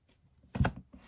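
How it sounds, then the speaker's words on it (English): A deck of cards being shuffled by hand, heard as a quiet, brief papery riffle that swells into one short burst of rustling and fades, with no talk over it. "That just came right out as I was just shuffling the cards."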